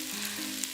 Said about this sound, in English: Sizzling is nice, Tori.